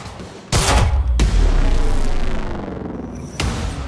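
Gunfire in the Quantum Break video game: a sudden loud burst of rapid shots starting early and rolling on with heavy echoing rumble, then a second sharp volley near the end, with no talking.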